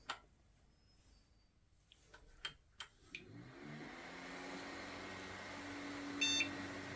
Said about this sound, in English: And we've got a beep, and it powers the system.